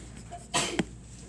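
A single sharp sneeze bursts out in a quiet classroom during a high school geometry review, brief and fairly close, followed by a small second catch of breath.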